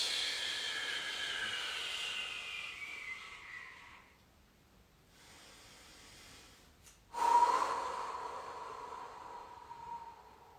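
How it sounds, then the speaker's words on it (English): Deep breathing during an ab exercise, a long hissing exhale, a quieter stretch, then a sharp snorting inhale followed by another sustained breath out, close and breathy. "Breathe in, breathe out."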